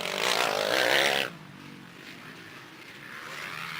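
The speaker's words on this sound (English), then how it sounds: "Dylan again on that Kawasaki" Kawasaki motocross motorcycles racing past on a dirt track, a loud, close engine roar that cuts off abruptly after about a second, followed by a lower, more distant engine drone.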